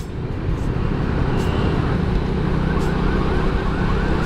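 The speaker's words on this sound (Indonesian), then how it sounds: "Itu angkot belakang berisik banget deh," A noisy angkot minibus roars close behind a Honda Supra Fit motorcycle on a Bogor road, a loud, continuous engine and traffic din that fills the whole stretch.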